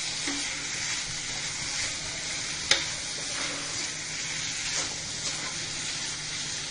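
Masala for an aloo mutton curry sizzles steadily in hot oil, a constant close frying hiss broken by occasional stirring scrapes and one sharp clink.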